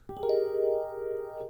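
A sustained synthesizer tone on a Roland FA-series keyboard: one held chord with a soft attack, steady and clear, no voices.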